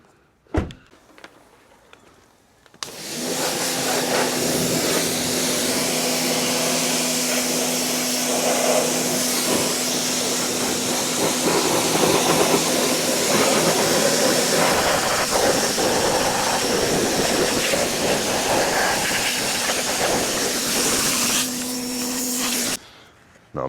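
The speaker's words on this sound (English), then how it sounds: "power wash everything." A pressure washer sprays down a car during detailing, a loud continuous hiss and motor drone that starts after a short quiet pause, runs steadily, and cuts off near the end.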